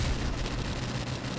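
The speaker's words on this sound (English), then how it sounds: "Oh, freaking grenade." A grenade blast in Call of Duty Modern Warfare Remastered on the Shipment map in a Kill Confirmed match, a dense, heavy low rumble filling the whole moment amid continuous loud gunfire-like din, no voices.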